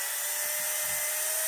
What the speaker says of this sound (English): you want to mix it for about 2 minutes with your drill